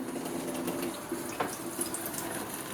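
Cold tap water running to rinse a cyanotype contact sheet print, a steady close splashing flow at low level with no voices.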